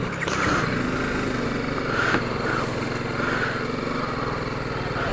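A BMW 310 GS motorcycle engine runs steadily at a low, even idle as the bike pulls over and stops on an expressway trip, close and continuous with no talk.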